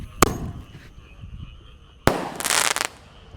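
Firework launching with a sharp pop, then bursting in a loud crackling, fizzing spray about two seconds later; two distinct outdoor blasts with quiet between.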